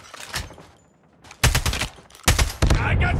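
Automatic-weapon fire in a Call of Duty Hardpoint match comes as loud, close bursts separated by short gaps, with a lull before two heavy volleys.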